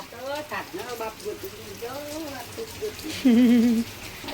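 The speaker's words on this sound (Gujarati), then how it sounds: "જો વરસાદ આખી રાતનો વરસાદ ચાલુ હતો" Steady all-night rain in Siddhpur, Gujarat hisses in the background while a person talks over it, with a brief tonal cry near the end.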